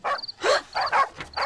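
Dogs barking and yipping at night near a house, several quick bark bursts close by in a rapid, uneven sequence.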